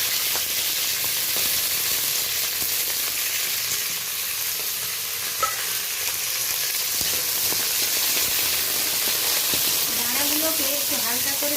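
Crab claws fry in hot oil in a pan, a loud, steady sizzle and hiss that fills the whole stretch, with faint stirring and scraping sounds and a brief squeak near the end.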